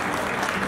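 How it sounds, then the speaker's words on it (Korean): Wedding guests at a Korean ceremony applaud, a brief burst of dense clapping from the hall heard alone. "박수 부탁드립니다."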